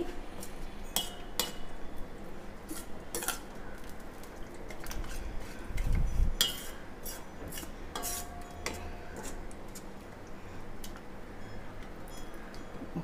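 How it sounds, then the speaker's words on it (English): Metal utensil scraping and clinking in a pan while a spiced Indian dish with garam masala is stirred, steady soft rubbing with a few sharper taps, close by and with no talking. "So we'll just stir this."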